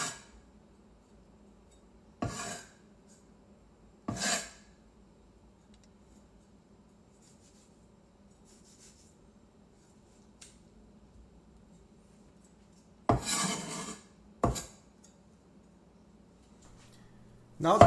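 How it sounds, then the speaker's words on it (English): A kitchen knife splits a tomato in half and cuts away its hard stem, giving a few separate, close, crisp slicing knocks against the board with quiet pauses between them. "split the tomato in the middle and cut off the hard stem like so"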